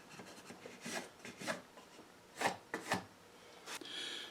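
A pencil or marker scratches short marks onto wooden bench pieces before cutting, with a series of brief, faint rubbing strokes at close range and no talking.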